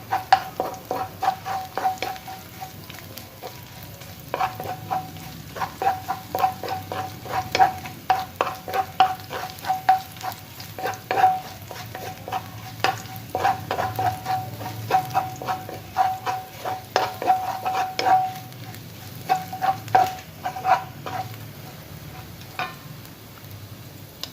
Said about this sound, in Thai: แล้วค่อยผัดกระเทียมให้เขาส่งกลิ่นหอมนะครับ